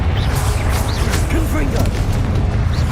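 Heavy, rumbling booms from the Confringo fire spell in the video game Hogwarts Legacy, a dense, loud, continuous roar of low blasts with crackling debris throughout.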